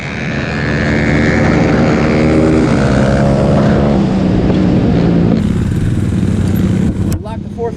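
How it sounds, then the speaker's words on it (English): Dirt bike engines roar loudly and continuously at a drag strip during a Mini Mayhem Fall 2021 event, with a steady, droning mechanical tone that shifts pitch partway through before a sudden, harsher burst near the end. "There's going to be a lot of dirt bikes and drag strips in this episode."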